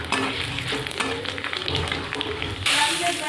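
Five-spice seeds, dried red chilli and bay leaf sizzle loudly in hot oil for a spinach dish, with a steady crackling fry that jumps to a brighter, harsher sizzle near the end.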